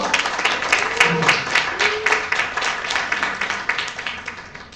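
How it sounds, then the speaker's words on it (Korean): Audience applause welcoming a singer on stage at a book concert, a steady wash of many hands clapping with a few louder claps standing out, and faint voices murmuring underneath. "박수로 맞이해주세요"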